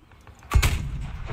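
A cannon fires in Battlefield 4, one loud booming blast with a rumbling tail, heard close and alone.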